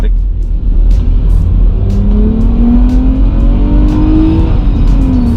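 A 2300 cc Nissan sedan engine revs up while accelerating, a loud, close, rising drone heard from inside the car, with someone talking over it.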